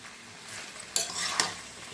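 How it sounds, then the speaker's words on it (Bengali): Salted cabbage is stirred in a frying pan over a faint, steady sizzle, with two brief scraping strokes of the spoon standing out near the middle, quiet and close, with no talking. "নাড়িয়ে দিই ওলট পালট করে, যাতে হিটটা প্রপার পায়।"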